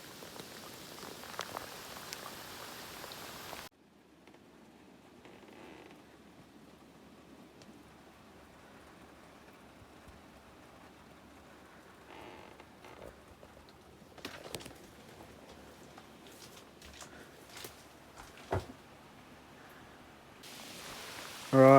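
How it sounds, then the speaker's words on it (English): Rain falls outside a small wooden hut in the north of Vancouver Island, a soft steady hiss with occasional louder drips and patters, quieter in the middle stretch and heavier at the start and end. "Can chill in here while it's raining."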